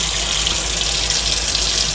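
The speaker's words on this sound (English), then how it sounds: "I turn my water down so it's kind of trickling" Cold tap water runs in a steady, close, gentle stream into a kitchen sink while butter is rinsed under it, with no voices over the flow.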